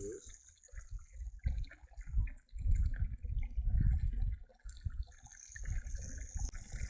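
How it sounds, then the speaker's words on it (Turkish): Water gushes and splashes steadily out of a 10-litre Decathlon Quechua camping shower bag as it is emptied quickly, a close, fluctuating pour lasting several seconds. "Bu sefer hızlı şekilde aslında suyu boşaltmış"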